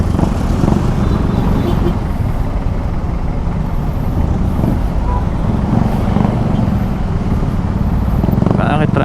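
Aprilia SR GT 200 scooter riding through city traffic, its steady engine drone mixed with continuous road and traffic noise, with talking over it throughout.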